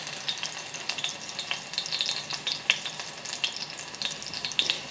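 Fish frying in a pan under dark green onion, a steady close sizzle with light crackles and pops throughout, no talking.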